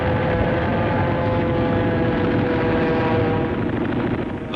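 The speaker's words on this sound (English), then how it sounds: "the U.S. ships offshore were attacked in a heavy air raid." Aircraft engines drone loudly and steadily throughout a heavy air raid on US ships off Iwo Jima, including Japanese suicide planes, a dense, continuous roar with no speech.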